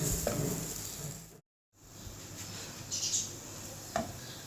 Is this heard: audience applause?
no